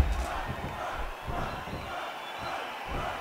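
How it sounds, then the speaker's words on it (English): Crowd chanting in a WCW wrestling video game arena, a steady broad roar of many voices with rising swells, loud and continuous throughout. "I don't know what the crowd is chanting."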